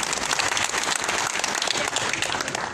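Crowd applause at a swearing-in ceremony in San Andrés Huaxpaltepec, Oaxaca, a loud, steady stretch of many hands clapping continuously with no voices over it.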